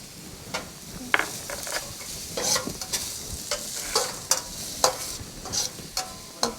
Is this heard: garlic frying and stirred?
yes